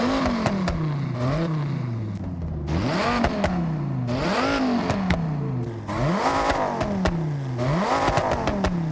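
A Forza Horizon Ram SRT10's Viper V10 engine revs up and down repeatedly in rising and falling sweeps, loud and close, with a throaty exhaust note and no talking.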